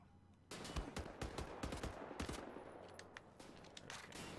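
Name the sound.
enemy gunfire in Wolfenstein: The New Order video game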